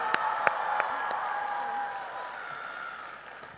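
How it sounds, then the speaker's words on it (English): An audience applauds steadily with a murmur of crowd voices, the clapping slowly tapering off. "Let's give her one more round of applause."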